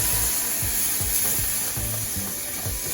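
A spoon stirs vegan sausage crumble gravy made with cashew milk and flour in a pan, giving steady close sizzling with a rhythmic scrape on each stroke.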